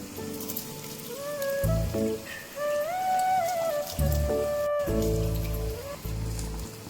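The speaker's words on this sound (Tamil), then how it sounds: "இப்போ நம்ம ஊற வச்ச பாஸ்மதி ரைஸ் சேர்த்துக்கலாம்" Soaked basmati rice poured into boiling water in a pot for biryani gives a steady hissing, splashing wash of water, with faint tonal whistles and brief louder bursts over it.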